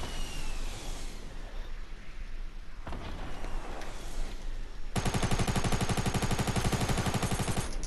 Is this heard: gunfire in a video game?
yes